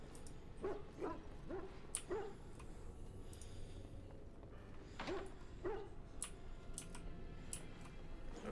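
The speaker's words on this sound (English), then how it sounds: "Ghost dogs." Ghost dogs in the video game Dragon Age: Origins give several short, faint, echoing barks and yips spread over a low rumbling ambient background.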